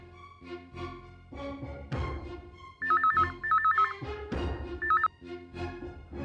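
A telephone rings in short electronic bursts, with several repeated trills, heard under background music and sound effects.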